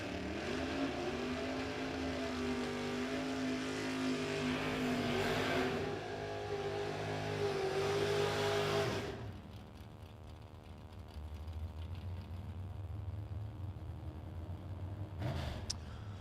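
A 1967 Chevrolet Camaro and a 1970 Camaro at a footbrake drag race, loud engines revving and roaring together, then cutting away to a lower, steadier rumble as the cars pull off into the distance.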